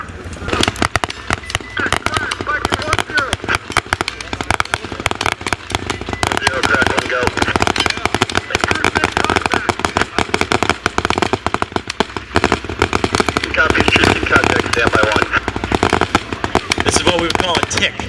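Simulated gunfire at a bombing range open house demonstration, a sustained barrage of rapid cracking bursts and pops, loud and continuous, with an announcer's voice over the racket.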